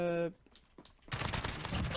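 A brief electronic tone gives way to a sudden, sustained burst of rapid gunfire in Call of Duty: Modern Warfare, loud and dense, after a short quiet pause.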